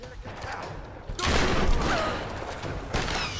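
Guns fire in Tomb Raider (2013), a loud burst of shots breaking out after a quiet second and continuing as a dense, rattling fusillade, with voices shouting over it.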